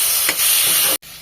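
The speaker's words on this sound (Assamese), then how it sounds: "মানে পিঁয়াজখিনি ভাজা হৈ গ'ল, এতিয়া মাংসখিনি দি দিলোঁ।" Chicken meat sizzles as it hits frying onions in a hot pan, a loud steady hiss close to the microphone that cuts off abruptly for a moment, then resumes.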